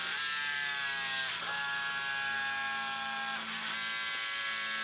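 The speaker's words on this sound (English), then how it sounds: "One servo worked slowly with a very high current." A Hextronik hobby servo under test, one drawing very high current, gives a steady high electric whine and buzz, close and constant, with two brief wavering shifts in pitch.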